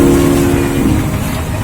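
A toy train ride runs through a park, a loud steady rolling rumble with a sustained horn-like tone near the start, continuous throughout.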